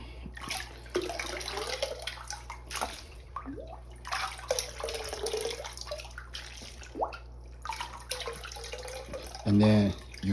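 A scoop of aquarium substrate is shaken and vibrated up and down in water to knock the dust off, giving sloshing, splashing and dripping in bursts, with a voice talking throughout.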